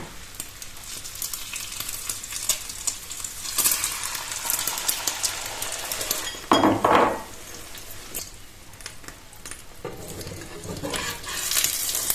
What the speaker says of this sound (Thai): คราวนี้มาเจียวไข่กันค่ะ